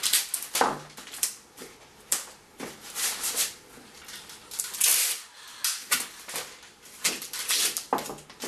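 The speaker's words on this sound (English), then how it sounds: "put a couple more layers of masking tape" Masking tape is pulled off the roll and pressed onto an oatmeal box made into a craft drum, with repeated sharp ripping tears and rustling, close and fairly loud, in uneven bursts.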